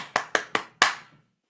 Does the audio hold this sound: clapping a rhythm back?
yes